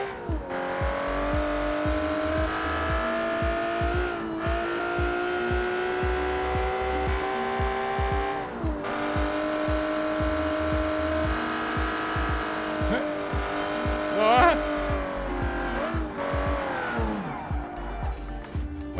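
Open-wheeler car in a driving game sliding sideways, a steady engine drone with repeated tire squeal and skid noise, close and continuous, some quiet talk in the background.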